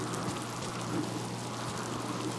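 Steady, dense rain patters throughout in the survival game Miasmata, an even hiss of drops with no voices over it.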